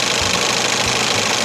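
A 1968 Evinrude Fisherman 6 hp outboard idles at low throttle with a steady, close, knocking putter and faint rhythmic pulses throughout.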